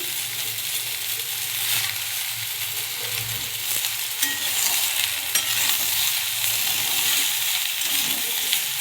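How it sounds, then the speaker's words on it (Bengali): Flat beans, potato and radish cubes fry in a pan with a continuous bright sizzle, occasional soft scrapes and clinks of stirring, close and steady throughout. "সিম আলু একসঙ্গে ভালো করে ভেজে নিচ্ছি"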